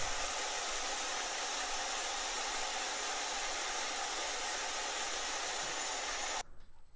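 A router cutter, guided by a small bearing wheel, rounds over the edge of a wooden board for a knick-knack shelf, giving a continuous high whining hiss that holds steady for several seconds, then cuts off abruptly near the end.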